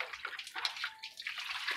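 Water sloshes and splashes in a basin as a six-year-old child rinses plates, with irregular close swishes and trickles in uneven bursts and no talk in between.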